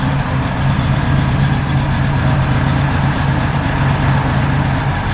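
A 1969 Chevrolet C10 pickup truck idles steadily with an even, low, continuous engine rumble that holds at a constant level throughout, with no voices.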